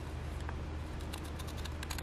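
Scissors snip through old music paper for collage tags, a quick series of close, crisp cuts over a few seconds.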